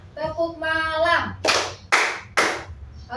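A voice sings out, then three sharp, separate hand claps land roughly half a second apart in a children's 'tepuk pagi, tepuk siang, tepuk malam' clapping game during a Christian religious education lesson.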